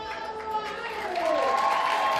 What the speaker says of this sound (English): Mustafa Abouema walking out to the loud applause of the local Egyptian crowd.